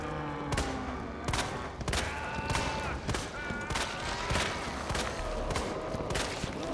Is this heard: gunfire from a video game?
yes